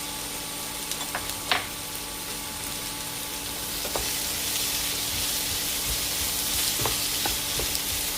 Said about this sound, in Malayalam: മുട്ട റോസ്റ്റിന് സവാള നന്നായിട്ടൊന്ന് മൂത്ത് വരണം.